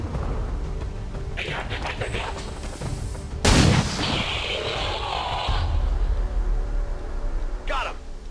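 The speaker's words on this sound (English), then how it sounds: "I'm gonna have to do a pistol shot." A single pistol shot fired in the XCOM 2 strategy game, one sharp loud crack standing out over steady game ambience and music, with a few softer impacts and effects around it.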